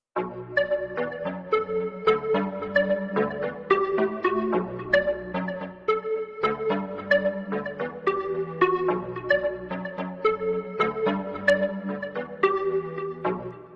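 A bright synth melody of repeating plucked notes over a steady low bass line, playing continuously at an even level with no voices, for an Afro dancehall beat.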